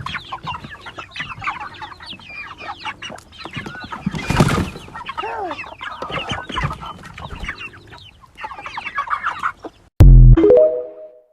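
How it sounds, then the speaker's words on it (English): Chickens cluck and crow nearby in a farmyard setting, a busy overlapping chorus of fowl calls that runs steadily, followed by a brief burst of music at the end. "Chicken. Yes. Chickens."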